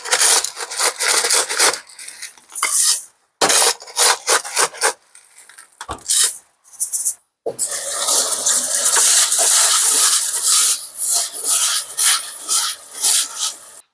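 A glass jar being washed for a terrarium: rough scrubbing and rubbing strokes come in uneven bursts with short pauses, then settle into a longer, steady stretch of close scouring.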